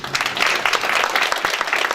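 A short round of clapping from a seminar crowd at a spring business expo, many hands together in a loud, busy patter that stays level for its two seconds.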